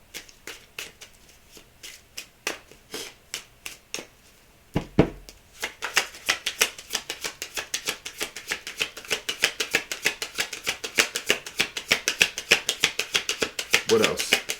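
Tarot cards riffled and shuffled by hand at close range, quick papery flicks in a steady rhythm that speeds into a denser run of snaps partway through, with no speech.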